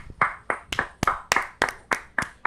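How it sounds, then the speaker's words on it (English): About nine sharp, evenly spaced claps from a podcast host or small audience, near and loud, each a crisp isolated smack in steady rhythm, no talking. "Let's all have a round of applause."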